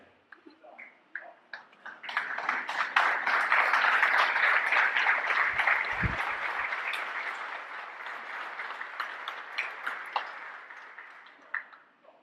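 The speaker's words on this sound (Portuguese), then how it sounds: "Aplauda. Aplauda de verdade, se você crê" Congregation applause at a church service in Santos, São Paulo, swelling from scattered claps into a loud, sustained ovation that holds steady before tapering off, with a brief low thump midway.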